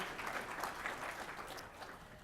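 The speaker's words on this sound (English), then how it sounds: "that does deserve a round of applause" A crowd applauds steadily, a dense wash of clapping hands heard from a distance at moderate volume, with no voices standing out.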